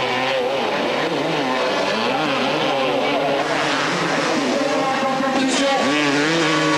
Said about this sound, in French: La Kawasaki d'usine donne tout ce qu'elle a parfaitement aux ordres de son pilote.